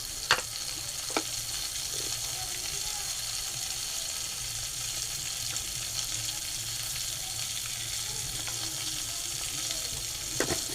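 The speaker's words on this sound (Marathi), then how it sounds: "आपण मस्तपैकी ते ढवळून घेऊया" Raw mango dish being stirred in a pan, a soft continuous sizzle with occasional scraping clicks of the spoon against the pan, fairly quiet and steady, with no voices.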